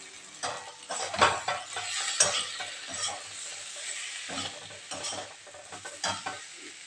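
Curry sizzles in a pan as water goes in, with stirring, clattering utensils and scraping in bursts close by, and no talking.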